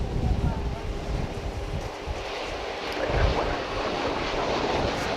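An American Airlines passenger jet arriving at DFW Airport, heard as a steady broad roar of engine and wind noise from a distance, swelling slightly midway, with some talking in the background.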